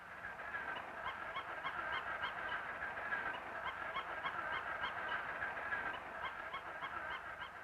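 A 30-hour-old duck in an old 16mm film gives a continuous run of rapid, high, honking calls, loud and steady throughout with no talk over it.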